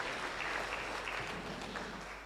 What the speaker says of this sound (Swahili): Tumpigie Bwana makofi in the name of Jesus.